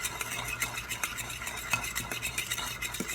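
Custard with cinnamon is whisked in a bowl, producing a fast, continuous scraping and tapping rhythm of metal against the bowl, close and fairly loud throughout with no speech.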